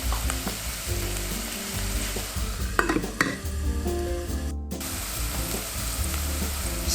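Onions fry in a pan with a steady, close sizzle while a utensil stirs them in soft, scraping strokes, punctuated by a couple of light taps against the pan.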